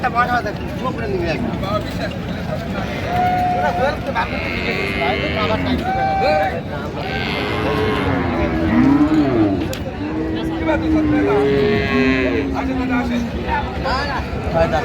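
Dairy cows and calves moo repeatedly at a cattle market in Dinajpur, long low calls rising and falling, close and loud, while people talk throughout and a steady background hum continues.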